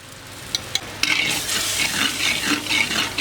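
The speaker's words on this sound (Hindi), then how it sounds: "अब इन तमाम मसाला जात को अच्छी तरह भून लेंगे।" Spices stirred and roasted in a pot for beef makhni handi, a steady sizzling fry with scraping stir strokes, a few sharp utensil taps at the start, close and continuous.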